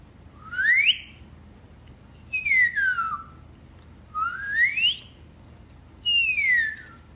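A person whistles four separate tones, alternating rising and falling swoops with short pauses between them, clear and close over a faint low background hum.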